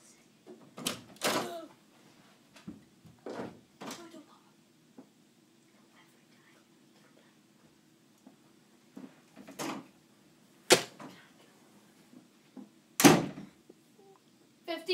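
Doors open and close in a horror video game, several sharp bangs and slams spaced irregularly, loud and close against a quiet, low hum, with soft speech between them.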